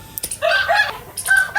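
A young game rooster crows loudly and close by, two strident calls separated by a short pause, with no voices alongside.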